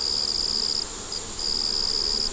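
Honey bees hum loudly and close at an open hive as foragers bring in pollen, a steady drone with a high, whining tone that drops out briefly midway and then returns.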